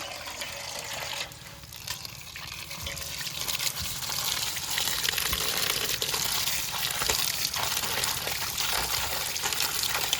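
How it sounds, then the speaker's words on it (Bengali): Bitter gourd leaves are washed under running water, with a steady gush and trickle close by that rises after a brief dip and then runs on continuously, with no talk. "উচ্ছে পাতাগুলো এবার ভালো করে ধুয়ে নেব।"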